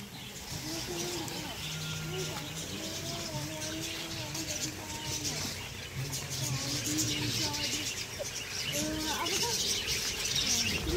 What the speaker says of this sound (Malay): Burung serindik